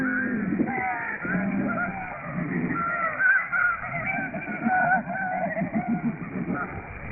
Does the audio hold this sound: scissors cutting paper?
no